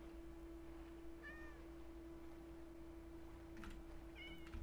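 Two short cat meows from a cat in the Minecraft video game, rising and falling tones around a steady background hum, with a shorter pair of meows near the end and no talking.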